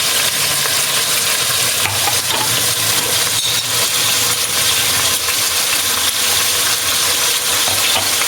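Garlic, ginger and cardamom fry in a pan for a curry, giving a steady, close sizzle with stirring and scraping scrapes throughout.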